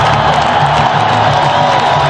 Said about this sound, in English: This capacity crowd here at Sullivan Stadium really in a frenzy at this point as Dave Jen